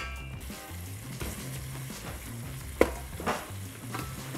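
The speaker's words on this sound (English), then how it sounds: "As the garlic sizzles, we're gonna add in our chicken." Garlic and small-chopped chicken pieces fry in a hot pan, a steady close sizzle with soft crackles and a brief clatter near the end, no talking.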